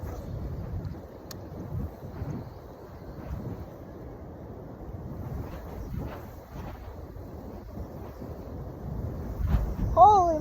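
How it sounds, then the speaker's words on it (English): Strong wind buffeting the microphone on a fishing boat at sea, a loud continuous low rumble with gusty swells that builds toward the end. "it's super windy"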